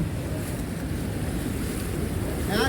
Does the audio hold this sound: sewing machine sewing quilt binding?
no